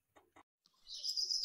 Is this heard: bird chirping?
yes